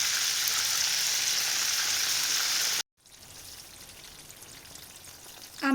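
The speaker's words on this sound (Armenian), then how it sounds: "արդեն որ գեղեցիկ այսպես տապակված է լինում, ավելացնում եմ լոլիկի հյութ" Meat frying for pilaf sizzles loudly and steadily in a pot, then cuts out abruptly as tomato juice is poured in, leaving a quieter, softer bubbling simmer with a brief clatter at the end.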